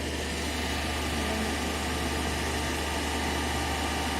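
Motor driving an alternator on a test bench, speed being raised with the field rheostat: a steady, even mechanical hum and whine at moderate level, constant throughout with no talk.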